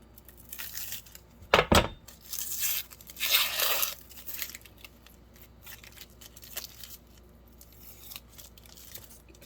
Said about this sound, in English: and just peel the skin off